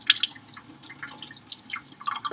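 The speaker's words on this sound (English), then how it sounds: "first thing I'm going to do is get my paintbrush wet" Water dripping and splashing at a sink as a watercolor paintbrush is wetted, with scattered close, bright drips and trickles at an uneven rhythm and no talk.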